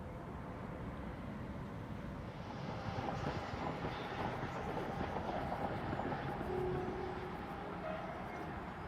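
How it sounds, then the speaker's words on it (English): A fairly new train running along an old railway line, a steady low rumble at moderate distance that swells slightly in the middle while passing. "That's the old one, taking a rather new train."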